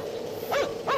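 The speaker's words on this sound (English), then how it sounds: "It's a doggy. Doggy!" A dog in an indie horror game gives two short barks or yips about a third of a second apart, close and fairly loud over a steady background hum.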